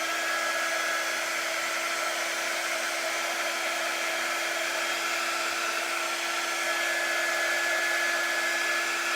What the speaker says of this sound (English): I do have the blow dryer plugged in. A little bit hotter air.